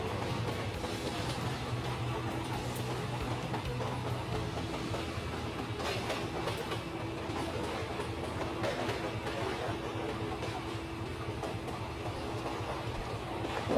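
A cartoon train rolls steadily into a large station, with a continuous rumbling, rattling rail noise and faint clacking that stays even and close for the whole stretch, with no talk over it.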